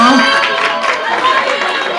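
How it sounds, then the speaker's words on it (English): Crowd applause and cheering at a youth retreat, a steady dense wash of clapping and chatter filling the whole stretch at close range. "A round of applause, a round of applause."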